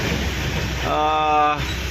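Steady, fairly loud rain pours during a full road traffic block on a flooded road, a constant wash of noise with a voice briefly heard partway through.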